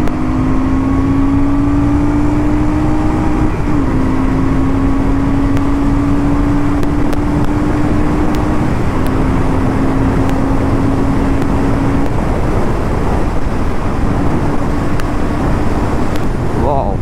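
A Royal Enfield Super Meteor motorcycle engine revs and climbs steadily in pitch as it accelerates in second gear, a continuous droning roar with a voice talking faintly over it.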